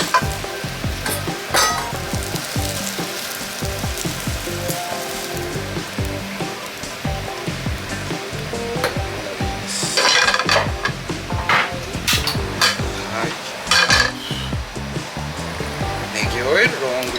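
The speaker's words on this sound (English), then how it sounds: "最初にスクランブルエッグを軽く作っておきます" Scrambled eggs stirred and fried in a pan while preparing Thai rice noodles, a loud sizzle with repeated scraping and clacking of a utensil against the pan, louder bursts near the end, and some talking.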